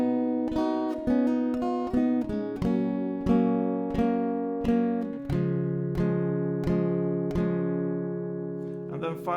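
Acoustic guitar picking out the chords of a song with bass strings emphasized, steady repeated plucked strums ringing clearly and close, played alone without talk.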